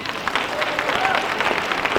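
A small, diverse group of participants at a gospel music explanation session clap their hands, a brief, moderately faint patter of applause with a murmur of voices underneath.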